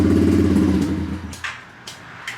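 A Chinese four-stroke semi-automatic dirt bike engine gives a close, low, throbbing rumble that dies away after about a second, followed by faint knocks.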